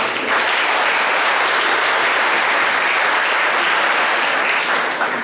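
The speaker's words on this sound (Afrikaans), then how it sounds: "Kom ons klap sommer net aan." A church congregation claps during a Sunday service, a dense, even wash of applause that holds steady throughout with no talking over it.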